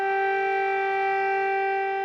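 An air raid siren sounds during a bombardment, one loud, steady tone held without a break and with no voices over it.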